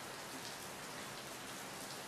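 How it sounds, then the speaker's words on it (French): Steady rain falls in a film scene, a dense, even hiss of drops on surfaces that stays constant throughout at moderate volume, with no talking. "Ah, c'est la pluie là."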